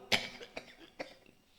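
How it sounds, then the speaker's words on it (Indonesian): A single person coughs several times in short bursts, one sharp loud cough followed by a few weaker ones, close by, with no other sound around them. "batuk lah"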